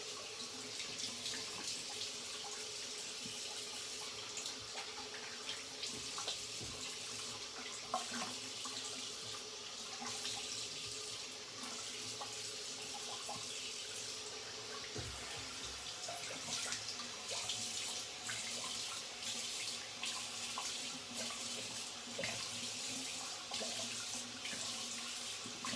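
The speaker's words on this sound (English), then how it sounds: "I'm gonna rinse for about 2 minutes." Tap water runs steadily into a sink for rinsing after a straight razor shave, a continuous close splashing hiss with small shifts as hands move through the stream, no voices.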